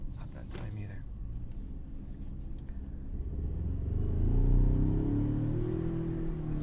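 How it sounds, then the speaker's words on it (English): A 2020 Ford Ranger Lariat 4x4 SuperCrew pickup with a 10-speed automatic transmission, heard from inside the cab as the engine rumble swells and rises while it shifts up through the gears, then settles into a steady drone. "you can definitely hear that 10-speed automatic transmission shifting through those gears pretty heavily"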